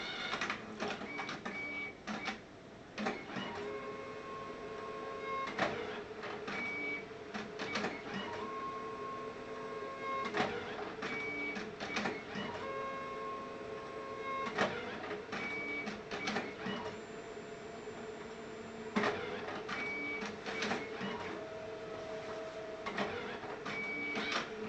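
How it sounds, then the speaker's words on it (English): Zenius Evolis card printer printing a full-colour gloss card, with a steady mechanical whir broken by repeated clicks, clunks and short motor whines as the card feeds through, close and continuous for about twenty-five seconds. "We'll start it printing now. There she goes."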